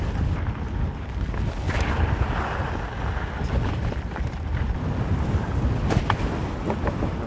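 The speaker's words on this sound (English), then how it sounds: "The wind will be blowing you like a frickin' sail." Strong wind buffets the microphone on a windy mountain summit near Fort William, giving loud continuous rumbling roar with gusty surges and no one talking.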